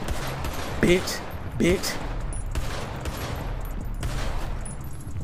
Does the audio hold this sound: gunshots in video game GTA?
yes